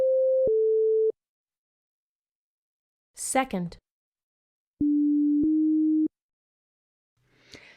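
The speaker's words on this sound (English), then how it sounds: "Here's an example of what a tonal item sounds like." Two short pairs of steady pure tones, each pair a higher then slightly lower pitch, played as a music aptitude tonal test item, with a brief spoken word between the pairs and a faint noise at the end.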